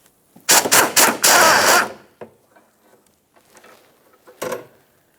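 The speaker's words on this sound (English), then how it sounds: "We can remove the bolt." Power tool spinning out a 13mm fuel tank strap mounting bolt on a Ford Fusion, several loud rattling impact bursts over about a second and a half, then quiet clinks and one short final burst.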